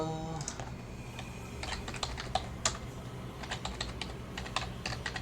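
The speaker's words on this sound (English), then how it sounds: "I'll just type that in now." Fingers type on a computer keyboard in quick, uneven bursts of light plastic clicks, near and moderately quiet, with short pauses between runs of keystrokes over a low steady room hum.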